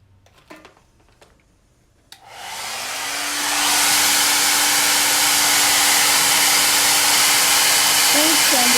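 A hair dryer blasts on after a few soft handling sounds, ramping up to a loud, steady airy roar with a faint motor whine, drying a craft transfer on a lazy Susan; no voices.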